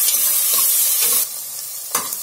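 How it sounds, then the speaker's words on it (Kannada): Chopped onions and green chillies fry in hot oil for a South Indian vegetable curry, a steady close sizzle broken by scraping strokes of a stirring spoon, with no talk. "ನೋಡಿ ಈಗ ಚೆನ್ನಾಗಿ ಫ್ರೈ ಮಾಡ್ಕೋಬೇಕು."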